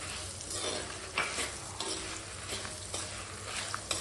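Coriander seeds and asafoetida roast in a pan for gongura pickle, giving a quiet steady sizzle. A few soft scrapes and rattles from stirring are heard close by.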